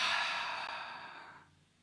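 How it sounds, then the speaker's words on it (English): A single long, deep exhale during a guided breathing exercise, airy and close, fading steadily to quiet. "And exhale."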